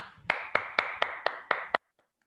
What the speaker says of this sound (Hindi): तो मैं एक जोरदार तालियां चाहूंगा